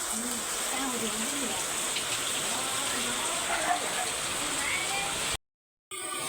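Steady rain of the year's first monsoon shower hisses throughout, with a faint voice murmuring low underneath; the sound cuts out abruptly near the end before returning briefly.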